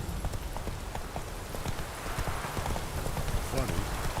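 A horse gallops through rain in the Witcher 3 video game, its hooves beating a quick, continuous clip-clop close by while a voice talks over it.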